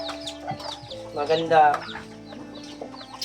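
Chickens clucking close by, a short burst of hen chatter with someone speaking briefly over it.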